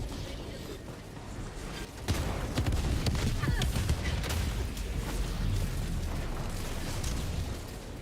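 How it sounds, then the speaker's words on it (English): A grenade goes off in Helldivers 2 on the hardest Helldive difficulty with a sudden loud boom, followed by steady rumbling battle noise with scattered pops. "Throwing grenade!"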